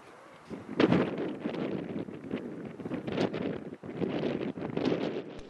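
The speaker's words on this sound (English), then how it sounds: "Up there the force of the wind was magnified." Strong wind buffets the microphone on an observation deck high above Reykjavik, a steady broadband roar that surges in several louder gusts throughout, with no voices.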